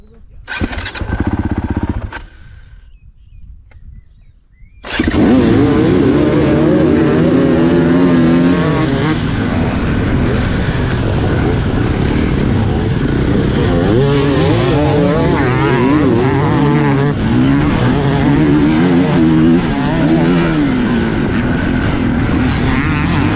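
Dirt bike engines fire up together at a GNCC cross-country race start in New Zealand after a brief lull, swelling into a loud, sustained roar of many revving motorcycles with talk underneath.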